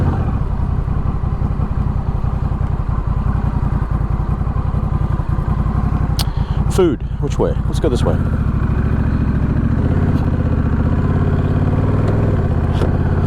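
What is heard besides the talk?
Honda Rebel 1100 motorcycle exhaust while riding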